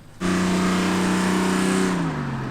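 A loud motor roars steadily at close range, holding a strong droning pitch that drops slightly near the end, with no voices.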